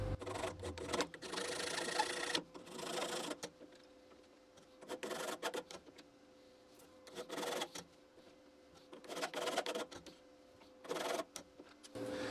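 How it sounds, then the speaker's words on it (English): A file scrapes zinc coating off axle bolts in repeated rasping strokes, arriving in short clustered bursts separated by quiet gaps, close and fairly faint. "I'll just file the zinc off first."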